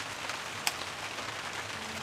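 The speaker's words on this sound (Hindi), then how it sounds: "बारिश दोबारा से शुरू हो गई" Rain falls on a mountain trek near Kareri Lake in the Himalayas, a faint, steady patter with one sharp drop hit.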